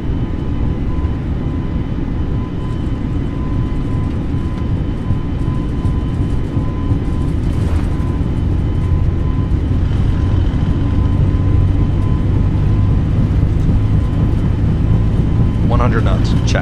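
A Delta Airbus on the runway with its engines spooled to takeoff thrust, a loud, steady, deep roar that builds slightly and persists throughout, heard from inside the cockpit with crew voices over it.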